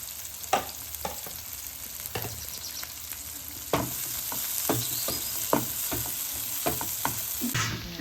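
Capsicum fries with prawns and cashews in a pan, a crackling sizzle punctuated by repeated sharp clacks of a spoon stirring against the pan, close and unaccompanied by speech.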